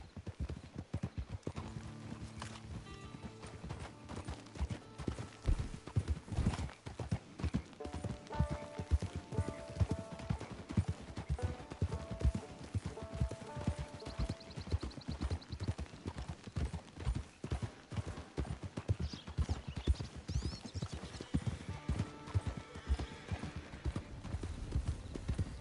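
Horse hooves clip-clop in a steady, rapid rhythm throughout a ride in the Red Dead Redemption 2 video game, with occasional game voices and tonal cues over the hoofbeats.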